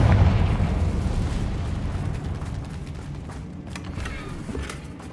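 A Confringo fire spell blasts in Hogwarts Legacy, a heavy, close rumbling boom that starts loud and slowly fades over several seconds with faint creaks and pops.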